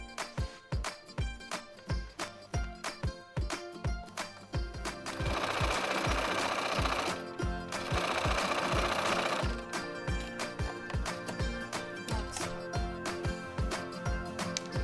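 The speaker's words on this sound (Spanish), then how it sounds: "voy a pasar esta nueva costura" A sewing machine runs a decorative seam on a fabric cosmetic case, loud and close, in rapid bursts of mechanical stitching broken by short pauses and one longer continuous run, with no talking.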